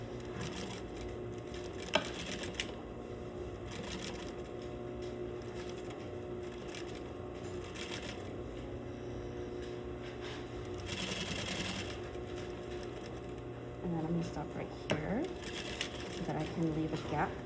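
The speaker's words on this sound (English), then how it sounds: "I'm gonna do an edge stitch to" A sewing machine runs a steady edge stitch attaching a sleeve cuff. The whirring continues through most of the stretch, with a few brief clicks and a voice speaking over it.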